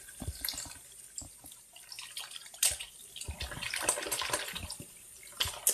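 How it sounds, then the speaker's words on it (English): A tap runs into a bathroom sink as it fills for washing a synthetic wig, the stream splashing and gurgling unevenly with louder bursts, close by and with no talk. "And I'll let the water run."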